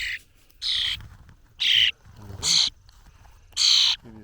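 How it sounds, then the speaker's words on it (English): Baby birds in a nest give five loud, harsh begging calls in an uneven rhythm, each about a third of a second long, with faint low murmuring between them. "how are the little birdies doing today, I wonder?"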